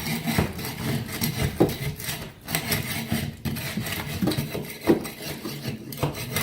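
A floor scraper is dragged across a bare floor, pulling up carpet pad staples and bits of padding, making a continuous loud rasping and scraping with rhythmic rubbing strokes and occasional sharper catches.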